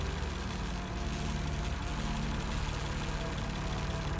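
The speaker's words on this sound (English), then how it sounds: "Judging by the engine noise and the smell, there are diesel generators in this shed." Diesel generators run inside a shed in a video game set at a German camp, giving a steady, dense mechanical engine drone with a constant low rumble and no pauses.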